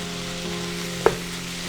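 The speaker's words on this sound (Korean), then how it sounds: "넣어서 얼른 볶아줘야지" Squid pieces stir-frying in a hot pan for a spicy squid stir-fry, a steady soft sizzle running throughout with one brief clink of a utensil midway, close and fairly quiet, no voices.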